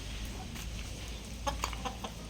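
A few short clucks from backyard hens sound faintly over a low background rumble, scattered and brief.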